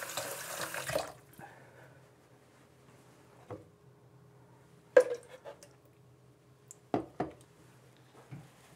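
A safety razor rinsed under a running tap gives a brief rush of water at the start, followed by scattered splashes and knocks against a quiet background.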